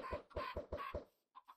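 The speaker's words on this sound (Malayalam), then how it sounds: "പാവം കോഴികളെ വെറുതെ വിടറാ" Chickens in the Minecraft video game cluck in a quick run of five or six clipped bursts, then pause briefly before a few softer clucks return, all fairly quiet and with no talking.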